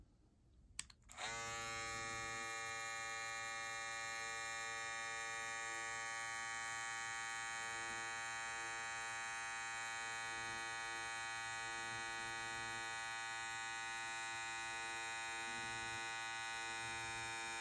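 A Boost FX brushless hair clipper switches on with a click and runs steadily, a loud, even electric buzz with a strong whine that holds unchanged to the end, no voices.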